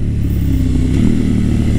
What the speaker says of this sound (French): Oh, le petit passage au shifter.